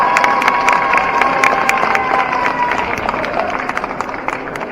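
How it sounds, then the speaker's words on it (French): Crowd at a geek convention cosplay contest cheering and clapping for a winner, a dense steady roar of applause with scattered sharp claps and shouts, loud and close throughout. "Applaudissez-la très fort,"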